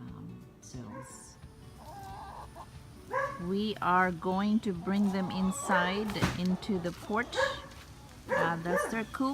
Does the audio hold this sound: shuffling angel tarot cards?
no